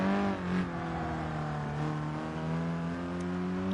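Scirocco engine in GT Sport on the Dragon's Trail circuit, holding a steady, sustained drone at high revs throughout, loud and close.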